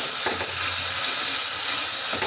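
Sago pearls mixed with fruit food colouring are stirred in a pan, making a constant frying-like hiss with soft, continuous stirring texture and no speech.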